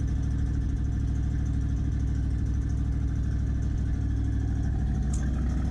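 A 1976 Ford Ranchero 500 engine runs at a steady, rumbling idle close by, its low throbbing pulse even and continuous with no talking.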